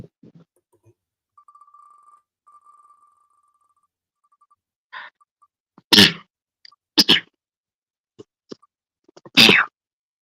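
A sharp, loud sneeze bursts out in a quiet room, followed by a couple more short noisy bursts, after a faint electronic tone earlier.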